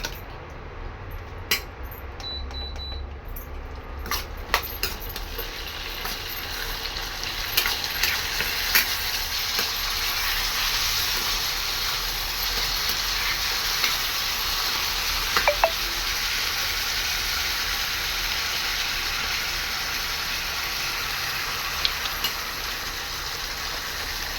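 Garlic, chana dal and urad dal frying in a pan on an induction stove, with tomatoes added, giving a steady faint crackle and sizzle with scattered clicks and scrapes throughout, no voices.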